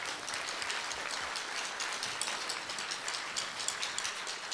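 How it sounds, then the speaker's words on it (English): Faint, steady applause from a middle school band concert audience honoring sponsors, a soft hiss of many hands clapping at a distance for several seconds with no voices. "We give them a round of applause."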